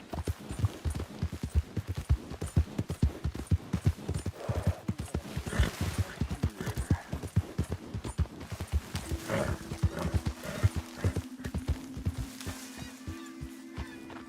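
Horse hooves gallop in rapid, steady clip-clop beats inside Red Dead Redemption 2, loud and close, with a low sustained tone joining toward the end and no talk over it.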